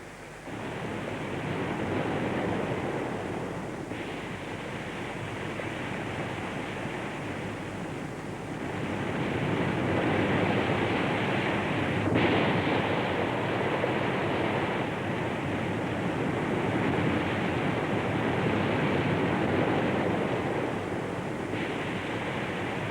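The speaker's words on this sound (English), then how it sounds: "The waves erode the hard volcanic rock and pulverize it into sand." Sea waves breaking and washing onto a black sand beach in a volcanic region, a continuous loud roar of surf with slow swells in intensity over many seconds, no voices.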